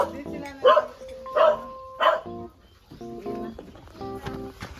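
Several dogs at a house bark in short bursts, a few loud near yaps and some softer, with brief whimpering or yipping between them.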